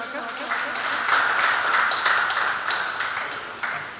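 Applause from an audience at a book release event welcoming a guest, a dense, steady patter of clapping lasting several seconds, with a voice speaking over it.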